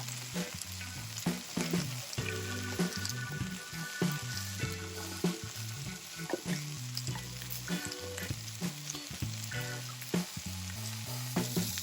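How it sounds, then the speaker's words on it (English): Curry leaves, mustard seeds and chili flakes sauté in a pan with okra, a steady close sizzle and crackle with faint stirring scrapes throughout, no voices over it. "Add in the chili flakes and saute those."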